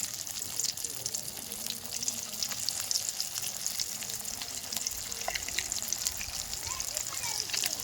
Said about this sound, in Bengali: এবার আমি তেলে দিয়ে ভেজে নেব।